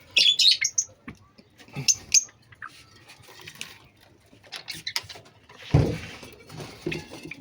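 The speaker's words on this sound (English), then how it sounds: "It's Australian parrots." Small caged Australian parrots giving sharp chirps and brief squawks in bursts, with rustling and light clatter between the calls.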